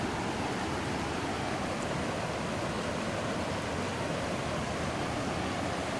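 Flood water from the 2013 Big Thompson flood pours across open fields in a steady, dense broadband rush, continuous and fairly close, with no voices.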